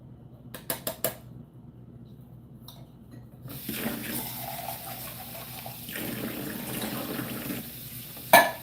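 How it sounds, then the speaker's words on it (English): Food is poured into a sieve and rinsed under a running kitchen tap: a few sharp clinks and knocks of metal first, then a steady loud rush of water that continues to the end, with a final clatter. "So I'm going to pour them in the sieve and rinse all that off."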